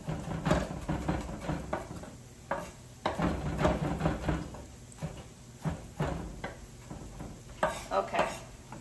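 Garlic sautéing in a pan, with a low sizzle under repeated stirring scrapes and light clatter of a utensil against the pan, fairly close and uneven in rhythm.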